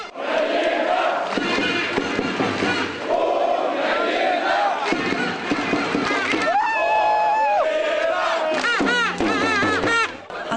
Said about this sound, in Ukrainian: І вже звідси дружнім натовпом із шаленою підтримкою нашої збірної маршем фанатів рушили до рівненської фан-зони.